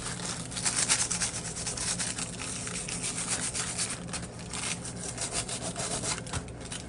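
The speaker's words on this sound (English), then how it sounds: "Take your foil, come back over it, roll it on, give it another little scrub." Foil being rolled and scrubbed over an egg in a steady, close-up scrubbing rasp with continuous rubbing strokes, no talking.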